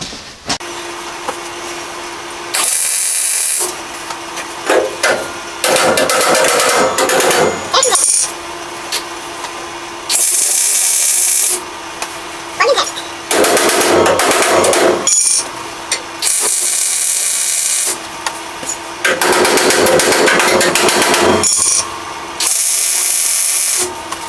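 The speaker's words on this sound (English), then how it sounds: "So I'm going to start tacking and tapping and going from there on here." Sheet metal work on a car trunk under restoration, with repeated short bursts of tack welding and hammering, loud and close with brief pauses between them.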